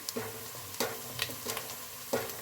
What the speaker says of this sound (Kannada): ಈರುಳ್ಳಿ ಎಲ್ಲ ಚೆನ್ನಾಗಿ ಫ್ರೈ ಆಗಬೇಕು.